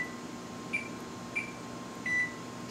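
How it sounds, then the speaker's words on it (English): Kitchen timer being set for cornbread baking in the oven, three short electronic beeps close by over a steady appliance hum, no voices. "We're going to set our timer for 18 minutes."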